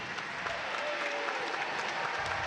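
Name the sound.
crowd applauding at basketball game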